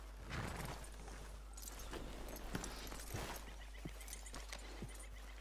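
A horse in the video game Red Dead Redemption 2 walks with faint hoof clip-clops in an irregular plodding rhythm, quiet against a low steady background hum.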